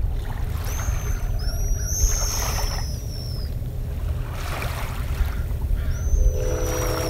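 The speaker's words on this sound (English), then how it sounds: "We've got a nesting colony of pigeon guillemot talking here on Anderson Island." Pigeon guillemots at a nesting colony on Anderson Island giving thin, high whistling chirps, several separate calls spread over steady water and wind noise outdoors.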